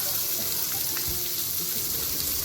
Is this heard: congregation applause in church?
no